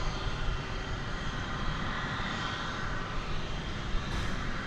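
An airliner departing DFW Airport makes a continuous broad jet engine roar, loud and steady throughout, with no voices.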